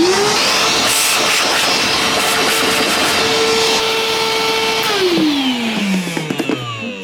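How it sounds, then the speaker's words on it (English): Evolution R11VAC-Li cordless wet and dry workshop vacuum switched to blower mode, a loud steady motor whine and rushing air throughout, with the pitch winding down as it shuts off near the end. "So just turn that round, click that in, and let's see what it's like as a blower."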